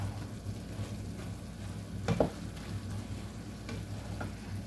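Vegetables sizzling as they grill in a hot pan, a steady low frying hiss with a few sharper crackles and a brief stir of utensil clatter near the middle, no talking.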